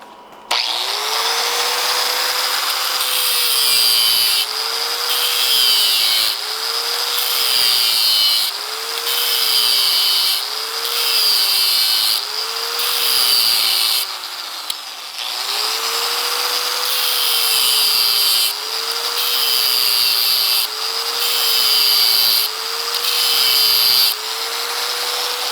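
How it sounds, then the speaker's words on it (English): An angle grinder fitted with a 110 grit disc cutting a waffle pattern into the face of a forged framing hammer, a loud continuous whine that rises and falls in pitch with repeated passes and brief pauses between cuts. "use the 110 grit disc to make the pyramid"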